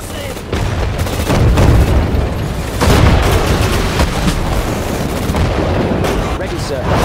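Artillery fire in Sudden Strike 4, during the Allied campaign's Arnhem bridge battle: loud, continuous barrages of heavy booms and rattling gunfire, with a second surge partway through and brief voice commands mixed in.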